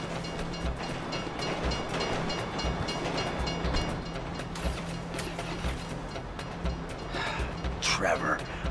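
Train rolling past in the video game GTA 5, a loud steady rumble with rhythmic rail clatter and mechanical grinding, close by, with brief higher screeches near the end.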